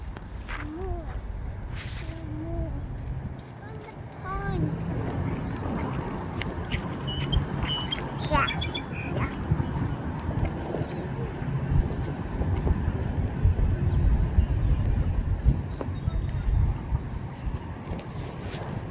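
Birds call and chirp across a wetland during a nature walk, scattered short calls over steady outdoor ambience with footsteps and distant traffic, while people talk nearby.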